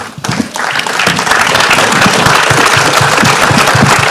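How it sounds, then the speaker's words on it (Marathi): At a film trailer launch event, an audience breaks into applause that swells within the first second and then holds as a loud, dense, continuous roar of clapping. "रितेश सरांसाठी एकदा जोरदार टाळ्या झाल्या पाहिजे."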